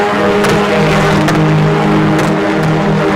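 Volkswagen Ameo race cars battling through a corner in a 2018 one-make cup race, a loud sustained engine drone with steady harmonic whine, close and continuous, with brief sharper bursts as cars pass.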